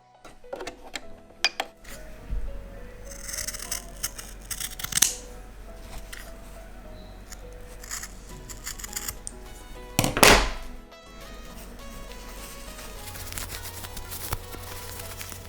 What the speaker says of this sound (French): après on coupera le surplus de tissu